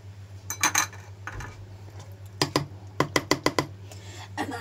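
A plate and a metal strainer handled in a home kitchen, with a series of close, sharp clinks and taps, several in quick succession near the end, over a steady low hum and no talking.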